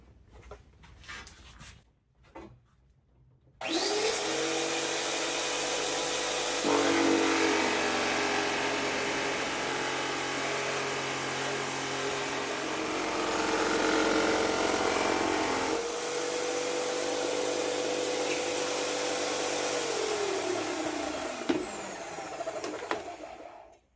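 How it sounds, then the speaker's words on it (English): A loud, steady motorized whine of a power tool cutting metal runs almost continuously, with brief dips in pitch as the load changes, after a few quiet seconds. "It's got a drill powered nibbler tucked underneath."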